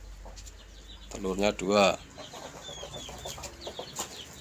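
Hen clucking while laying eggs, a short burst of loud drawn-out calls near the middle followed by quieter scattered clucks, with a brief spoken word nearby.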